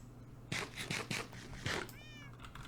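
A Minecraft cat meows several times in quick succession, soft and close, with faint background game sounds between the cries.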